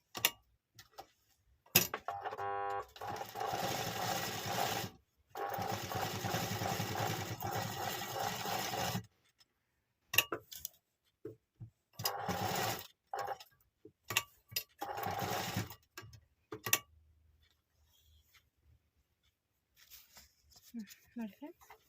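A sewing machine stitches the front design of a dress in several bursts of rapid ticking, with gaps between them and a longer quiet stretch toward the end.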